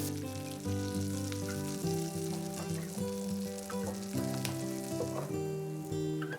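Venison chili being stirred in a pot over steady sizzling, with clear tonal music playing over it the whole time; no one speaks.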